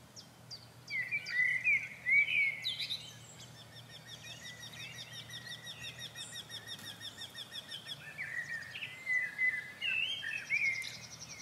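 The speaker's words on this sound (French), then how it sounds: "sur le buisson, un oiseau que j'entends depuis quelques jours, le torcol fourmilier." A Eurasian wryneck's repeated short song phrases ring out from a bush in spring in two separate bursts, moderately distant, over faint outdoor background noise.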